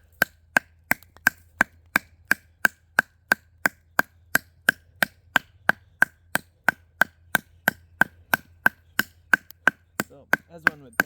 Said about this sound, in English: let's do a little bit of chopping here